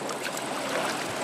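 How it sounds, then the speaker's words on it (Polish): Water poured into a small container holding a seahorse caught on the Black Sea shore, a short, soft, steady trickling splash heard alone. "Trochę tam doleję wody."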